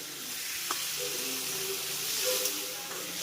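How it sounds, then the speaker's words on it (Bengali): Steady sizzling of potatoes frying over high flame in a wok, with a few faint clinks and scrapes of stirring, fairly quiet and continuous. "হাই ফ্লেমে এইভাবে একটু নেড়ে চেড়ে আলুটাকে ভেজে নিতে হবে"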